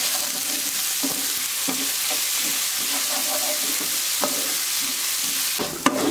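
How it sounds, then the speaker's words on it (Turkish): Vermicelli and rice roasting in a pan give a steady dry sizzle, broken by repeated scrapes and clicks of a spoon stirring through the grains, close and continuous with no voices. "Bir 5 dakikadır kavuruyorum."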